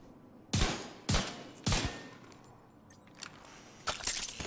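Gunfire in The Division 2, fired from cover: four sharp, loud shots spaced roughly half a second apart, then a pause with faint clicks before a final burst, with no talk over it.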